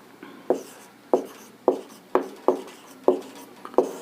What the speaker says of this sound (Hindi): सो नोट करने के लिए मैं यहाँ पे लिखना जरूरी है, तो चलिए हम लिखते हैं